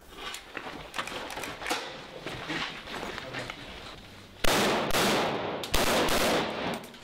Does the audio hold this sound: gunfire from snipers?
yes